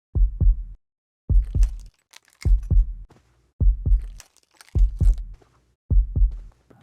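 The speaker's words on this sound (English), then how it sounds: "You're crawling under hanging chains and broken glass, and a heartbeat sound effect kicks in." A loud, deep heartbeat sound effect from the stealth game Splinter Cell thumps in slow double beats, lub-dub, repeating steadily and close up with no talking.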